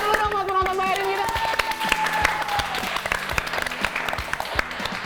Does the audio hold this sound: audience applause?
yes